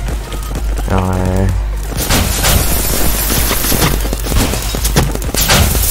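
Turret gunfire in the Roblox game Big Paintball, a dense, continuous burst of rapid shots and impacts filling most of the clip, loud and close, with game sounds layered over it.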